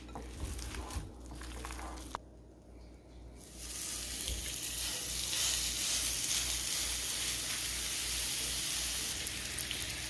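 Oil heating in an oiled cast iron skillet on a stove, a bright hissing sizzle that dips briefly near the start, then swells and holds steady and close for the rest, with no talking.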